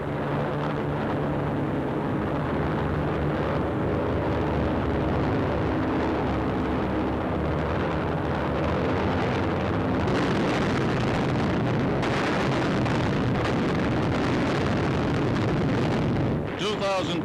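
Heavy bombs exploding during a World War II aerial bombing raid on Berlin, Germany, heard as a continuous loud, rumbling roar with bursts and engine drone mixed in throughout.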